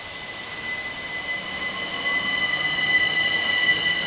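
A Class 375 electric train pulls away from Cuxton station with a steady rising rumble. High-pitched whining tones carry through, and the sound grows gradually louder and nearer over a few seconds.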